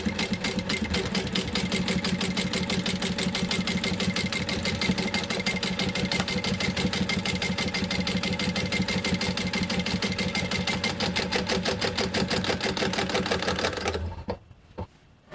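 A sewing machine top stitches a flak vest for a custom Mandalorian costume, running in a fast, steady, continuous rattle for about fourteen seconds before stopping abruptly.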